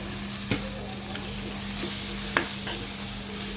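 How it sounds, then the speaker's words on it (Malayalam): Tomatoes and onions sauté in a pan for a Kerala-style prawn roast, with a steady sizzle and stirring throughout. A few sharp scrapes of the spatula stand out. "അതൊന്ന് വഴറ്റിയെടുക്കാം."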